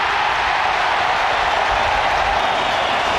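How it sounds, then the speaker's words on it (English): A football stadium crowd reacts to a missed penalty with a loud, sustained roar of jeers and noise, dense and continuous throughout, without clear individual voices. "The crowd really making their feelings felt"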